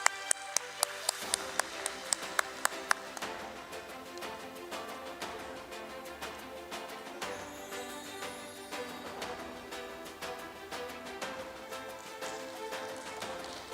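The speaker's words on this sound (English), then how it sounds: "Ladies and gentlemen, one more time, a big round of applause." An audience at a stock exchange listing ceremony at BSE claps, starting with a few sharp, distinct claps that quickly swell into a steady, even round of applause held at moderate volume throughout.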